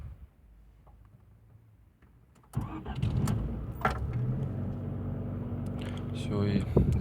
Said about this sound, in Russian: Включаю зажигание.